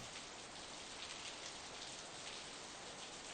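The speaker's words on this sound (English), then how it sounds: "The rain was falling on my face in drops so large that it hurt." Heavy midwinter rain from the video game Steins;Gate 0 falls in large drops, a steady, dense hiss that runs without a break and with no voices.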